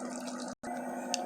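Water splashes and trickles into a mutton kofta curry in a cooking pot, a short close wet pouring sound broken by a brief silent gap.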